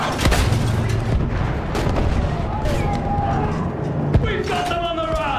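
Battlefield 1 battle din, with repeated gunshots and booming blasts cracking over constant rumbling combat noise, plus shouted voices and engine-like whines layered in a busy, close mix.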